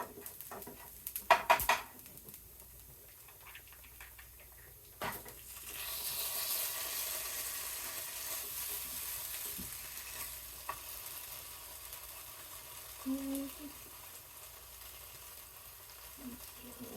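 Caramelized onion miso pasta sauce sizzles softly in a pan as cream cheese is stirred in, with a few early clanks of utensils and pan, then a steady low frying hiss.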